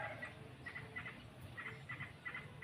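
Small wild birds call from close by at their nest, where chicks are being fed, giving short, repeated chirping bursts at a fairly steady rhythm over a soft, constant background hiss.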